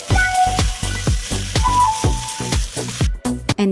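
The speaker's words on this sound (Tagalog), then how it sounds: "pwede na po natin isunod yung boneless beef. I-fry lang po natin ng konti until a little bit brown po siya." Boneless beef sizzles and fries in a pan with browned garlic and ginger, loud and steady, with a run of sharp repeated ticks and scraping stirs about every quarter second.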